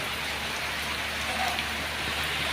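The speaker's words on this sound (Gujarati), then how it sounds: "અહીંયા વરસાદ ચાલુ છે ગાઈસ, વરસાદ ચાલુ થઈ ગયો" Steady rain pours down in a dense, even hiss, with droplets pattering on a surface throughout and no voices.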